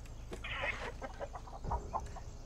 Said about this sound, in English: Why are you fucking waking them chickens up and shit?